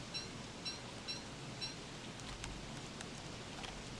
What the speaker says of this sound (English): it is now officially the worst rain